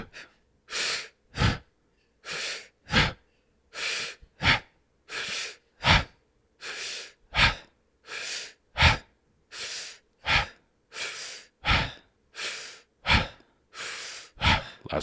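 A guided deep breathing exercise, heard as about a dozen close, loud breath cycles, each a pair of in- and out-breaths, in a steady slow rhythm with quiet pauses between.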